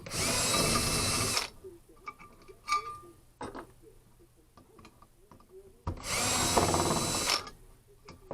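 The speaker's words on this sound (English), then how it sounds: "I just have to drill a hole in the gizmo" Power drill boring a hole in an electrical switch box, two loud sustained bursts of whirring with a stretch of quieter clicks and handling noise between them, close up.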